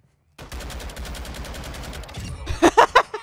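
Automatic gunfire in Call of Duty MW2 gun game, a steady rapid burst of shots followed by a few louder, sharper separate cracks close up.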